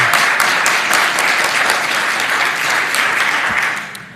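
An audience at a county school board meeting breaks into loud, dense applause that carries on steadily for about four seconds before starting to thin out.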